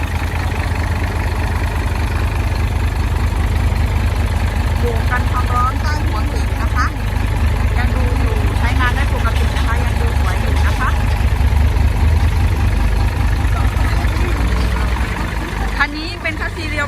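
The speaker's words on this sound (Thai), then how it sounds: "ตอนนี้ก็สตาร์ทแล้วนะคะก็ฟังถึงเครื่องยนต์กันก่อนเลยนะคะ" A heavy Hino JO7 diesel truck engine idles steadily and loudly with a deep rumbling drone, while someone talks over it.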